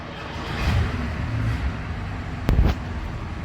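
A rare Bentley Continental with a 580-horsepower engine drives along a quiet Central London street, a near engine hum rising as the car passes, with a brief sharp knock midway.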